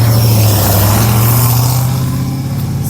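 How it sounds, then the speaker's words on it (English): A loud car engine roars close by, a steady heavy rumble that slowly fades as it passes. "Sorry about that very rude, loud car right now."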